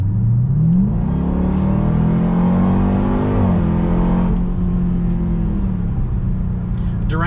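A 2021 Dodge Durango Hellcat SUV accelerating hard, its engine pitch climbing steadily through a long pull, shifting once and climbing again, loud and close from inside the cabin with no talk.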